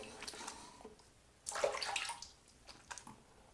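Water splashing as shaving soap is rinsed off the face, faint gurgles first, then a louder run of splashing and a few trailing drips, close and quiet.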